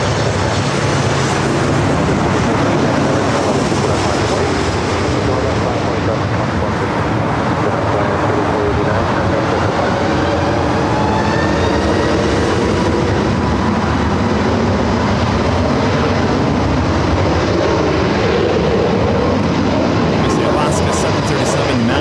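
A Delta airliner in special livery takes off at LAX, its broad jet roar loud and steady throughout, with tower radio chatter and talk running over it.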